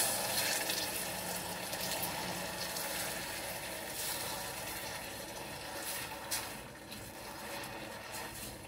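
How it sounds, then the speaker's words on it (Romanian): Water poured a little at a time onto burnt sugar in a kitchen pan, a steady close hiss and gush of liquid filling the pan that runs unbroken for several seconds, with no voices. "Și punem apa."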